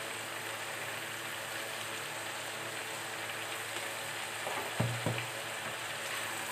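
Beans fry with turmeric and salt, giving a steady, close hiss of sizzling oil with a brief clatter of stirring near the end.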